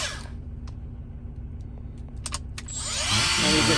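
A Milwaukee battery die grinder fitted with a carbide burr bit, used on a horseshoe, hums steadily up close, then its whine climbs and swells louder toward the end, with a few sharp clicks along the way.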